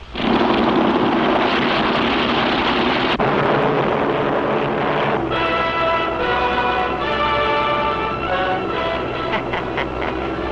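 Cartoon aircraft engines roar loud and continuous as a squadron of planes takes off to chase a stolen giant bomber, a dense rumbling drone that shifts into a pulsing, throbbing engine tone partway through.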